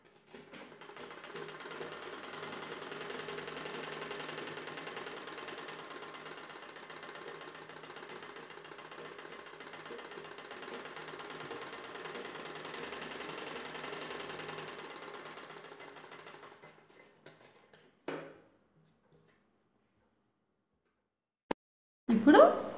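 An electric sewing machine stitches a blouse in one steady, fairly quiet whirring run of about sixteen seconds, then stops and is followed by a few soft handling clicks and knocks.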